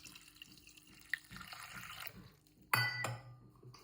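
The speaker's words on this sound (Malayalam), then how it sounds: "നമുക്ക് വേവാൻ ആവശ്യത്തിൻ്റെ വെള്ളം ഒഴിക്കാം" Water is poured into a pressure cooker holding sweet potato, giving small drips and splashes with light metallic clinks. It ends in a brief louder gush of pouring, close and fairly quiet.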